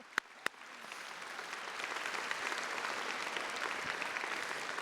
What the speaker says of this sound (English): that deserves a special round of applause